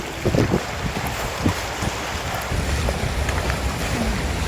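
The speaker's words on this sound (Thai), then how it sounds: "จะเป็นเสียงน้ำนะเสียงคลื่น" Steady wash of sea waves and moving water at the seashore on Ko Si Chang island, under gusting wind buffeting the microphone, with a few soft knocks early on.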